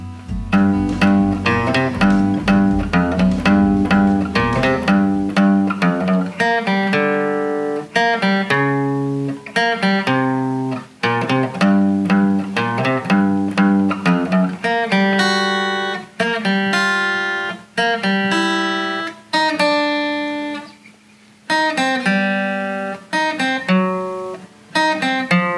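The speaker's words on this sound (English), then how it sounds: "today we're going to be learning the theme from Mission Impossible." A solo guitar plays the Mission Impossible theme, with a pulsing low riff under sharply plucked melody notes in a steady, driving rhythm, close and clear with no talking.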